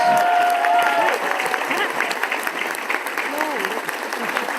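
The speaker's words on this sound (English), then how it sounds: "can we get a huge round of applause, please, for our wonderful guests?" Convention crowd claps for panel guests, dense steady applause filling the hall, with scattered voices and a few whistles or cheers rising over it.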